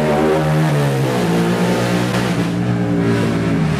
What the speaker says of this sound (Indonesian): nggak ada akhlak tuh orang bawa motor